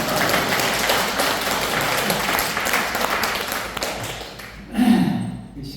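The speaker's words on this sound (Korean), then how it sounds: "이럴 때 박수 쳐주면 돼요." Applause fills a Lions Clubs forum conference hall, a continuous crowd of clapping hands that fades out near the end as a voice takes over.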